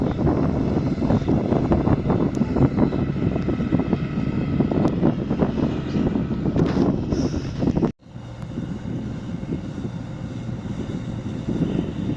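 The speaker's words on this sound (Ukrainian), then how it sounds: "вітер почався." Strong wind buffeting a microphone outdoors during potato hilling in a field, a loud continuous roar that cuts out abruptly near the end and then resumes slightly softer.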